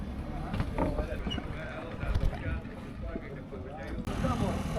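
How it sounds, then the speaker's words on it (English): A gondola crossing open harbour water from the Three Cities to Valletta in Malta, with continuous wind and water rumble around the boat, people talking over it throughout. "The obligatory gondola ride from 3 cities to Valetta."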